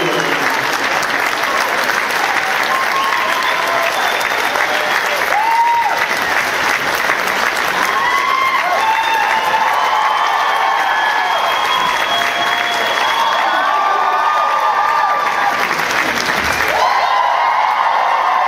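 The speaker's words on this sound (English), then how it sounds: "Please, a warm round of applause" A large convention audience applauds loudly and continuously, a dense wash of clapping with scattered cheers and whoops throughout.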